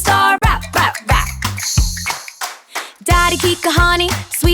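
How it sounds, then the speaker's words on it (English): Sharp, loud hand claps land in a bouncy rhythm through a family kids' dance song, punctuating the beat in quick bursts over the music. "Clap, clap, snap, snap, snap."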